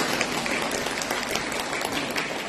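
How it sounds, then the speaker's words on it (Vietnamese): A seated audience at a Buddhist Dharma talk breaks into steady, dense applause, many hands clapping at once in a continuous wash that holds evenly for a couple of seconds. "Đồng ý cho đàn vỗ tay đi."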